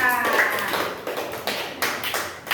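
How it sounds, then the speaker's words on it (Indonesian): A short burst of scattered clapping from a small group of schoolchildren in a classroom, light and uneven, alongside some talking. "tepuk tangan untuk kelompok 3"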